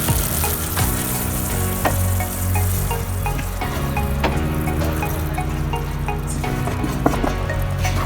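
Peanuts frying in a pan for peanut barfi, with a steady dense sizzle and scraping stirring clinks throughout, close and fairly loud with no talking.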